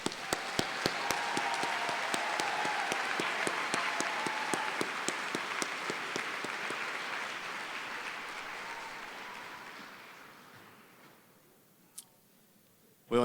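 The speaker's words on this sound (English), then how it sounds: "Let's have a round of applause for these graduates." A large crowd at a college graduation ceremony applauds steadily for about ten seconds, then the clapping fades out, leaving a single stray sound near the end.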